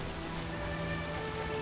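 Rain falling in The Witcher game, a steady broadband hiss of drops pattering on surfaces, constant and moderately quiet, with faint tonal hum beneath and no talk.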